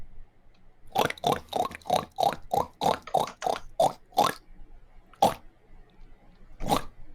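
A person imitates a pig, giving about a dozen short, punchy nasal oinks in a quick regular run and then two more spaced out, close and loud with no talk.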